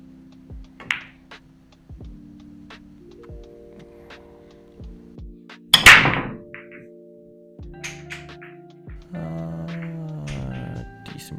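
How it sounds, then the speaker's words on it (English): An 8-ball pool break, balls scattering across the table after a sharp cue strike, then scattered clicks and rolling knocks; a humming tone runs underneath. "Decent break again, losing the cue ball a little bit."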